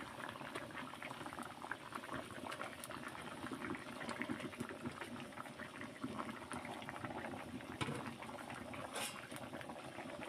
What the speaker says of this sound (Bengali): ঝোলটা ভালোভাবে ফুটে গেছে